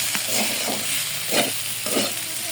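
Vegetable bhaji fries in a pan with a steady sizzle, and a spatula stirs it in a few distinct scraping strokes, close and moderately loud, with no talking.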